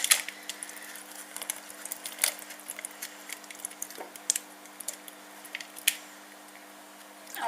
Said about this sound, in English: just gonna scoop out the seeds